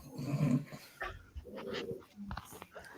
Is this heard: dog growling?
yes